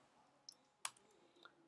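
A few sparse keystrokes on a computer keyboard while entering Unity engine code, short sharp clicks spaced irregularly with quiet gaps between them.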